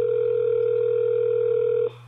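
A telephone dial tone hums as one steady, loud, even tone on the handset after a prank caller hangs up, then cuts off abruptly near the end and leaves only faint line noise. No one speaks.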